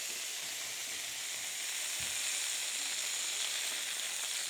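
Chicken pieces for chicken piccata brown in a frying pan, giving off a loud, steady hissing sizzle throughout. A single soft knock comes partway through, and no one speaks.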